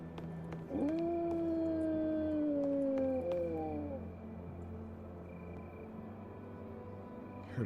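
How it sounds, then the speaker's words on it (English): A zombie dog in the survival game HumanitZ lets out a single long, wavering howl lasting about three seconds, sliding downward at the end, then quiet game ambience continues alone. "Heard a zombie dog."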